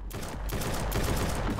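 In the video game Invaders From Uranus, a dense burst of crackling explosions rattles on continuously and loudly for a moment.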